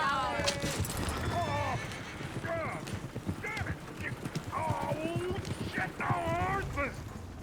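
Horse hooves clip-clop steadily while voices talk and horses whinny and snort intermittently, all fairly close and busy, in the video game Red Dead Redemption 2.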